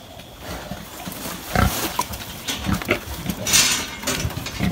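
Pigs in a farm pen during a sow and boar mating, giving irregular grunts and snorts with rustling and knocking movement, fairly close, no speech.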